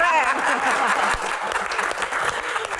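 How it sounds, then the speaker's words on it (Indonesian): A studio audience of university students at the Q&A talk show claps in a dense, steady burst that fades slightly toward the end, with no voices over it. "tepuk tangan untuk Seno"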